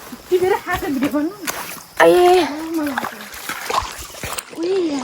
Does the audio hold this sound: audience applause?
no